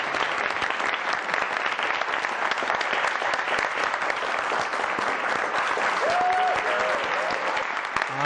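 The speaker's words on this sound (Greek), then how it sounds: "Θέλω ένα δυνατό χειροκρότημα να τον εμψυχώσουμε." Loud, dense applause from a crowd at a wedding reception, sustained and even throughout, with a brief voice or whistle surfacing near the end.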